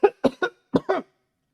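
Five harsh, abrupt coughs come in two quick clusters, close to the microphone and loud, with no talk around them.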